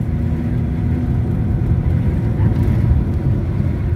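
A Chevrolet Monza SL/E engine pulls in second gear, a steady low rumbling hum from inside the car that swells slightly as it accelerates.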